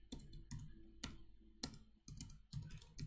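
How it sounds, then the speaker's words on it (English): Fingers type a command on a computer keyboard in short clusters of crisp clicking keystrokes, close and quiet, with brief pauses between the bursts and no voice. "now I will type the command that will run tests from tests parallel folder."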